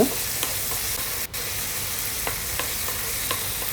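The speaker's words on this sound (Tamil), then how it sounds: "அந்த தக்காளியை போட்டுட்டு இது கூட தேவையான அளவு உப்பு போட்டுட்டு இதை நல்லா வதக்கி விட்டுறலாம்" Tomato and salt are sautéed in a pan for bottle gourd sambar, a constant frying sizzle with a few soft spatula scrapes and taps, close and even, with no speech.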